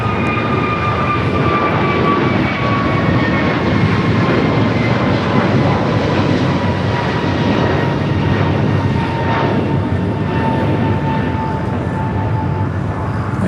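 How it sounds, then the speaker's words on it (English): An American Airlines A321neo jet takes off at LAX. Its engines make a loud, sustained roar with a whining tone that slowly falls in pitch as the aircraft climbs away. The sound is heard alone, with no talking. "Next takeoff, American Airlines flight 247 heading to Kona"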